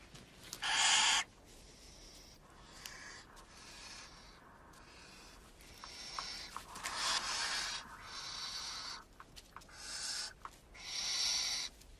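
Young barn owl chicks in a nest give a series of loud, raspy hissing screeches, each lasting about a second, spaced irregularly with soft rustling and scratching between calls; no speech.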